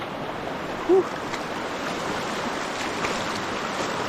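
Rushing floodwater of a swollen riverside flow, a broad continuous roar that stays steady and fairly close, with a brief faint voice early on.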